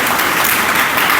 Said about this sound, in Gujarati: તો જોરદાર તાળીઓથી બિપિનજી શાહને આપણે વધાવીએ